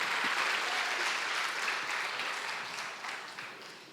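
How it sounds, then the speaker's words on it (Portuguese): A church congregation gives loud, sustained applause, many hands clapping densely and evenly before slowly tapering off toward the end. "Dê um forte aplauso ao Senhor"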